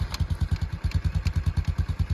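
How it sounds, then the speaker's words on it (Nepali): A 220 motorcycle engine-braking down a rough off-road track after its rear brake failed, giving a fast, steady train of close, thudding exhaust pulses with light mechanical clatter. "इन्जिन ब्रेक लिएर जान पछाडिको ब्रेक फेल भएको हो"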